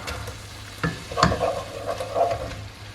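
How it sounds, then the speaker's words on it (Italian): Grated potatoes frying in an onion soffritto for frico, with a low sizzle, a couple of sharp utensil knocks near the start and then a steady crackle. "aggiungiamo i 400 grammi di patate grattugiate"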